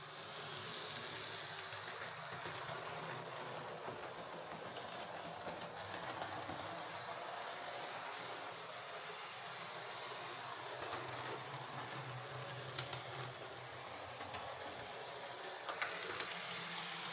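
A Hornby Class 29 model locomotive runs after a service with a fresh motor suppressor, giving a faint, steady whirring motor hum and a soft rolling rattle that continue evenly throughout.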